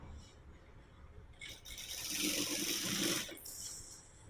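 An electric sewing machine stitching a folded one-inch hem along the side piece of a jute handbag, a steady mechanical whir that rises for about two seconds in the middle, with no talk.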